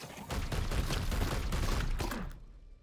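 Gunfire in Warhammer 40,000: Chaos Gate – Daemonhunters rattles as a dense, close burst of rapid shots lasting about two seconds, then cuts off abruptly.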